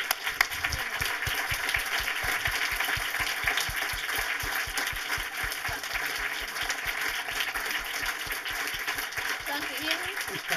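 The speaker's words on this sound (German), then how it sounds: "Einen herzlichen Applaus" Sustained applause from a film-talk audience honoring director Doris Dörrie, dense steady clapping throughout with a faint voice underneath near the end.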